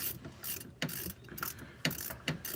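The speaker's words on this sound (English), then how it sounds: "I'll show this bolt coming out live" A ratchet works a motor mount bolt loose in the engine bay of a 2003 Honda Pilot, giving close, fast pawl clicking in several short bursts with brief pauses between strokes.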